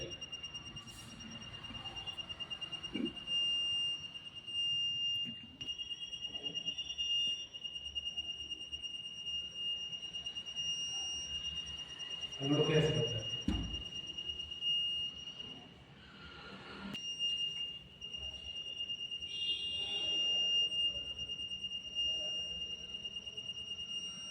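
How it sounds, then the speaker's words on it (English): A homemade obstacle proximity detector sensor project gives a steady high electronic beep tone that cuts in and out, with clicks and handling noise mixed in. "how the LED is glowing and beep sound is here"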